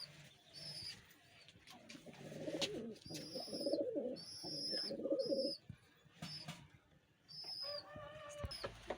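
Royal Teddy pigeons coo in low, throaty rolling bursts at close range, several pulses repeating across the stretch, while sharper chirps and higher calls from other caged birds nearby overlap.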